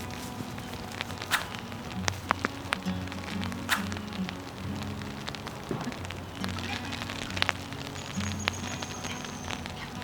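Steady rain falls outdoors beside a ferret enclosure, a continuous close patter with scattered drops and light knocks, heard alone without talk.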